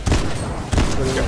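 Gunfire from an armed enemy avatar in the video game Fallout 4: two bursts of loud, close shots in quick succession, each a dense crackling blast, with the second trailing into a sustained rattle.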